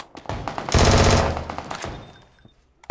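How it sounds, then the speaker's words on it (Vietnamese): Machine gun fire in the battle royale shooter PUBG comes as a loud, fast burst of rapid shots that fades into scattered echoing reports. "Súng."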